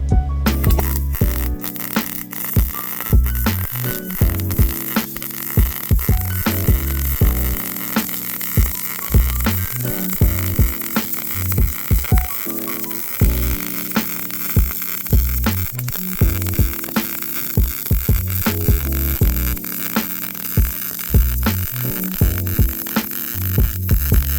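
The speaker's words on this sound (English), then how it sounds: "on sheet metal with a MIG welder, I tend to actually do circles" A MIG welder runs on thin sheet metal in small circular motions, giving a steady crackling buzz with a constant hum underneath and frequent sharp spits for the whole stretch, close by, with no talking.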